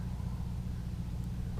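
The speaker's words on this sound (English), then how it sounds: "I'm going to break up the calm with the start of the engine" A sailboat's engine runs with a steady, close, low rumble on a calm morning, droning evenly throughout with no pause.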